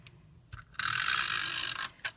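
A snail adhesive tape runner drawn across card stock makes a short close ratcheting whir lasting about a second, with faint clicks before and after.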